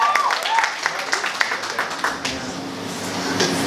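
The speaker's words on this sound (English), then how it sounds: "So give them a massive round of applause doing contemporary dance." An audience applauds dancers Danny and Sherilyn at a talent quest semi-final, a broad wash of clapping that stays steady and moderately loud, with a few brief whistle-like tones near the start.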